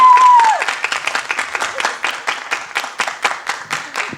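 Audience applause in a theater comedy performance: a burst of clapping that starts right after a sung note and settles into rhythmic, in-unison claps, loud and close, with a voice briefly heard at the start.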